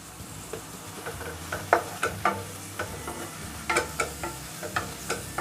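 Shallots sizzle steadily in hot oil with ginger garlic paste for Chettinad chicken curry, while a spoon scrapes and stirs the pan in repeated sharp strokes that stand out over the constant frying hiss.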